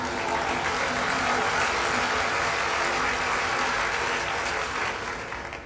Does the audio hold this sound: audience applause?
yes